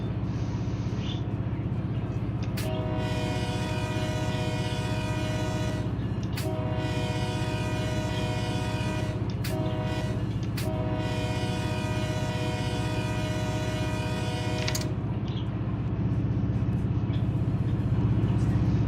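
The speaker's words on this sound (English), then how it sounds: "that long train going over that crossing" A long freight train in the Run8 railroad simulator rolls over a grade crossing, its horn sounding in three long blasts over a steady loud rumble of wheels and cars, with a brief lower-pitched tone near the start.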